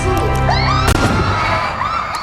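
A single sharp gunshot from a sniper in an action film cracks out in the middle of a dense, loud soundtrack of music and effects, standing out as one brief blast.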